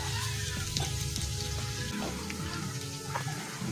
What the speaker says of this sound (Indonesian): tumis bawang merah bawang putihnya sampai nanti berwarna agak kuning kecoklatan